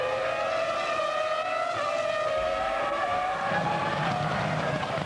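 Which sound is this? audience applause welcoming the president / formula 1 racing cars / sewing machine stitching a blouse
formula 1 racing cars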